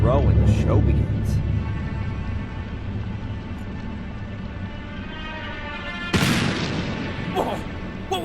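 A firework burst in the game Black Mirror III: a heavy boom opens the scene and a second sharp crack lands near the end, both loud over a low, steady ambient rumble.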